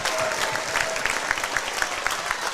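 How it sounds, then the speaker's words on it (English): A basketball crowd at a high school boys' game in Stevens Point applauds the seniors with steady, moderately loud clapping that fills the gym. "And his seniors get a round of applause."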